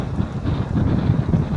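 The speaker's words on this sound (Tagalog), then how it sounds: "malakas yung ihip ng hangin" Strong wind at Nadsadjan Falls in Igbaras, Iloilo buffets the microphone, a loud low rumbling roar that gusts unevenly throughout.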